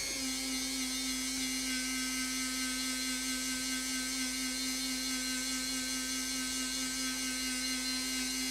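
A small power tool runs continuously during a repair and cleaning job, a steady high-pitched whine with a constant motor tone and no change in speed, fairly close and alone without speech.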